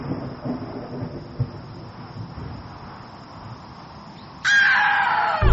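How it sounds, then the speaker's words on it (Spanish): Thunder rumbles from a distance as a storm approaches, a steady low roar with a faint hiss, broken near the end by a sudden louder, sharper burst. "junto a los truenos que comenzaban a escucharse en la lejanía, auguraban una tormenta inminente"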